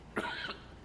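A single short cough, fairly close and moderately quiet, followed by faint room tone.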